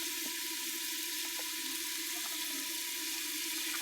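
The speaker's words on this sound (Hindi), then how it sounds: "थोड़ा सा पानी शामिल करेंगे।" Water hisses and sizzles steadily as it is added to a hot pan of chicken handi masala, a continuous, fairly close frying wash with no voices.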